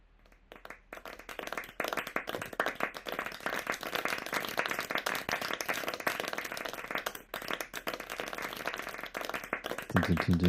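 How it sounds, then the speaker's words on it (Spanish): Steady, dense clapping from an audience at a masterclass fills most of the stretch, rising after a quiet start and holding at an even, moderately loud level with little voice. "vamos preparándonos para recibirlo con un aplauso"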